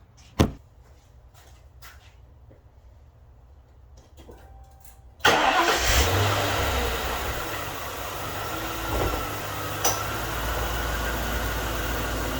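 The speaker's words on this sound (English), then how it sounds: "So let's give this thing a crank and see what happens." A Lincoln Town Car engine cranks briefly and catches at about five seconds, then settles into a steady, loud idle close by, with no talk over it; a faint click comes first.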